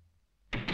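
A door is flung open abruptly in an animated household scene, a sudden loud burst of rattling and scraping after a near-silent moment, heard close with no talk.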